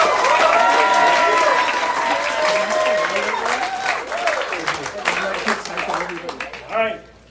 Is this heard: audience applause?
yes